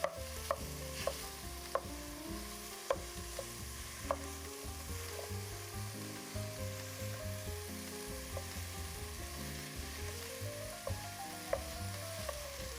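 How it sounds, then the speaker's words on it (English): Ground beef fries with translucent onions in a pan, a continuous close sizzle broken by sharp scrapes and clicks of a spoon breaking up the meat, over soft background music and with no speech. "we're gonna add in our ground beef"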